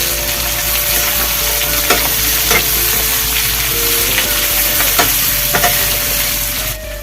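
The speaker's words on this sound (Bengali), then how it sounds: "হালকা করে ভেজে নেব" Chopped capsicum, green chilli and tomato frying lightly in a pan over medium flame, a loud, steady sizzle close by with occasional stirring scrapes.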